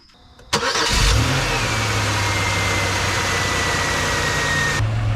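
A car engine with a newly fitted larger throttle body cranks and catches abruptly, then settles into a steady, loud idle that runs on unbroken with no talk.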